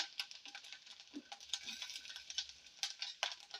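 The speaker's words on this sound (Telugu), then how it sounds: "కొబ్బరి అయితే వేగిపోయింది ఫ్రెండ్స్ ఇప్పుడు ఇందులో జీడిపప్పు వేసుకున్నాం" Coconut pieces and cashews sizzle softly in a pan, with faint frying hiss and light scraping stirs and clinks of a utensil against the pan, close but quiet.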